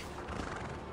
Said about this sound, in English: Oh, I can steal this horse.